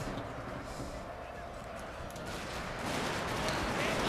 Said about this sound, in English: Here I'll order my troops to fire and suppress as well.